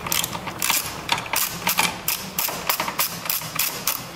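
Ratchet wrench with a 10mm socket backing out bolts from the engine computer bracket of a 2005-2008 Chrysler 300 / Dodge Charger SRT8, a steady series of quick clicking pawl bursts with soft knocks, close and alone.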